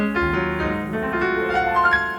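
Piano played in a stride style during a lesson, a brief dense passage of sustained chords and bass notes at steady, even loudness with no talking.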